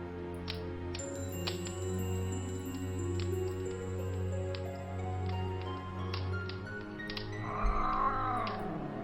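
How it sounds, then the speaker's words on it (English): A cat caterwauls and meows in the King's Quest III fan remake, a long, sustained wail heard alone alongside light dripping taps, rising near the end to a sharper cry. "Ooh, I hear the cat."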